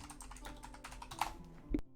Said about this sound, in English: You looked very official when you were typing and doing the side thing.